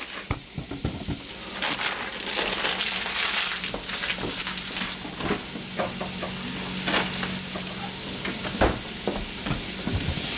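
Corn stirred in a hot pan while frying for hibachi fried rice, giving steady sizzling with irregular scraping and clicking strokes from the utensil throughout.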